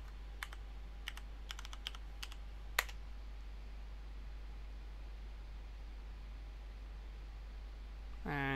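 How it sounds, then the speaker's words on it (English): Someone types a password on a computer keyboard to log into a Raspberry Pi, producing a short run of quick, crisp keystroke clicks, then a quiet stretch of faint background hum. "Tap in the password of Raspberry"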